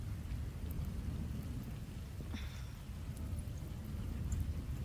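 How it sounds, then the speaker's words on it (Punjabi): Heavy rain falls steadily over paddy fields during an all-night downpour, a dense, even wash of noise that is fairly soft and distant, with no speech. "ਰੱਬ ਮੀਂਹ ਪਾਉਣ ਲੱਗਿਆ ਵੇ"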